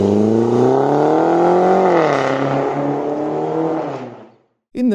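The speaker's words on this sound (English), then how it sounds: "the sound of the straight piped XFR" A straight-piped 500bhp Jaguar XFR blares loud and close, holding a sustained raspy rev that sags slightly and then cuts off into brief silence, followed by a short burst of noise.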